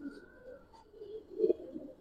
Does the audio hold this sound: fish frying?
no